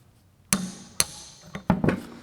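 A hammer strikes a punch to drive bearings out of a Sur Ron X motorcycle rear suspension linkage, giving several sharp metallic knocks at uneven intervals, close and loud.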